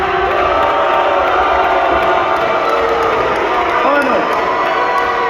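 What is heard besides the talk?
crowd cheering and hollering at boxing press conference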